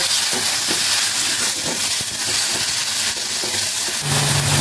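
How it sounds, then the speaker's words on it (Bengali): Ginger, garlic, chilli and turmeric paste with onion, salt and chilli powder sizzles steadily in a hot pan while being stirred, a dense continuous hiss with occasional scraping taps and a brief low hum near the end. "এবারে মশলাটাকে আমি খুব ভালো করে কষিয়ে নেব।"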